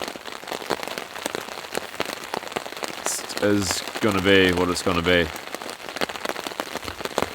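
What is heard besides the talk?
heavy rain falling at a wilderness camp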